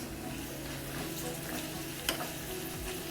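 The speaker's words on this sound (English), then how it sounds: "Finally, we'll switch off the stove and add the curry leaves." Curry leaves and red chilies sizzle in hot oil with a dense, steady crackling hiss. Close and even throughout, with one brief clatter partway and no talking.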